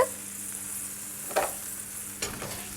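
Cherries macerated in Cadillac wine added to a hot pan after flambéing, a continuous soft sizzle with two brief louder bursts as they hit and are stirred, close and without speech.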